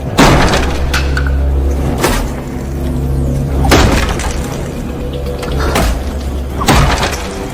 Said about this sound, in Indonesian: gedoran dan dobrakan yang sangat keras tersebut membuat sebuah lubang pada pintu